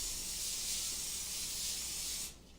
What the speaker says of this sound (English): just some kind of vegetable oil spray or something like that. Just an easy spray.